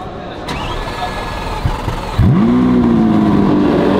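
A Lamborghini Aventador supercar's engine bursts into a loud, rising rev about halfway through, then holds a strong roar, after a stretch of quieter background noise and a talking voice.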